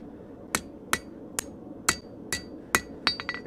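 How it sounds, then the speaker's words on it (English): Sharp metallic hammer blows strike a metal piece clamped in a vise, about eight distinct hits at an uneven pace, the last few coming quicker, close and clear over a low background hum. "Let's hammer it out a little bit."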